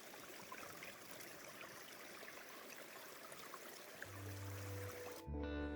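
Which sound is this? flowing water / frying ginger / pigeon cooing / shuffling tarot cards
flowing water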